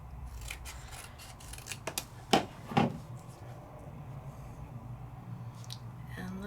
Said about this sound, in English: I think I'm gonna chop off some of this end.